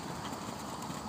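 Horse hooves on an arena surface during flat work, a faint, steady clip-clop of footfalls at a moderate distance with no talking.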